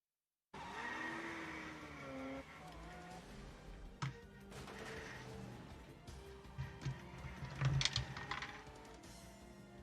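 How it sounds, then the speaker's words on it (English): A movie car chase plays back with revving engines rising and falling and tires skidding and squealing, and sharp crashing bursts come near the end. "the next reel is back to car chases"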